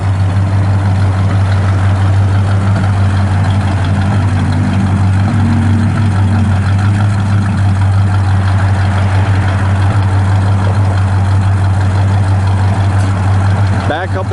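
A 1972 Chevrolet C10 Custom Deluxe shortbox pickup idles steadily through dual exhaust with a stock muffler, a deep, even rumble that stays fairly mellow and continuous throughout, with speech over it.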